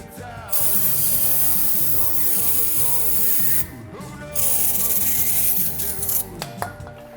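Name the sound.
tightening brake piston compressor tool, Hyundai Accent brakes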